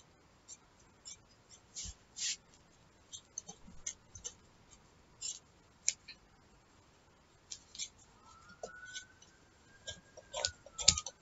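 Scissors snip diagonally through material for a DIY mushroom hat, a quiet series of small crisp cuts at irregular intervals with brief pauses, close by and faint.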